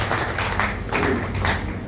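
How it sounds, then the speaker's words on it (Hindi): Audience at a Brahma Kumaris ashram event clapping to welcome a speaker to the stage, a brief dense burst of applause, fairly close and without talk. "जोरदार तालियों के साथ शुक्ला दीदी का स्वागत।"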